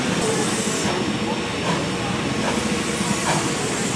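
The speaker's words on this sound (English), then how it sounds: "they're moving the engine around to the other end of the train" A steady, loud hiss of steam from a nearby Texas State Railroad locomotive being moved to the other end of the train, with faint mechanical clanks mixed into the constant rushing noise.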